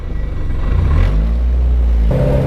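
Car cruising on the road with a Holley Hydramat fuel system, a loud steady engine rumble and whir that shifts pitch midway, with only a faint fuel pump whine underneath.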